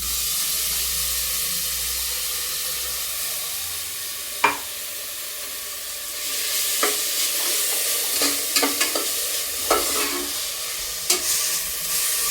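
Ginger, garlic and onion paste fries in hot tempering oil with a loud, continuous sizzle, broken by several sharp scrapes and clinks of a spoon stirring the pan.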